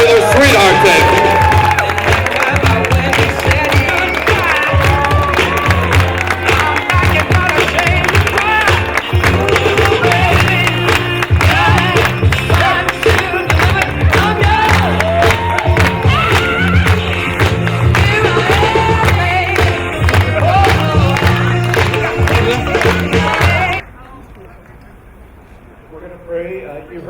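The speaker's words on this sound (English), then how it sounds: "Keep the applause going for them, folks, as they make their way to their sweetheart table." Wedding guests in Sonoma applaud and cheer loudly and steadily as a couple walks to their sweetheart table, with shouts and voices in the crowd, before the noise drops off abruptly near the end.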